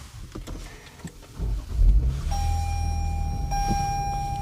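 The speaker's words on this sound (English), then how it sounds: "Now, let's turn this vehicle on so you can see some of the technology on the inside." A 2024 Lexus LX600 F-Sport SUV being started: a soft mechanical whir and thump, then a low steady hum settling in with a thin electronic tone from the cabin, close and moderate in level.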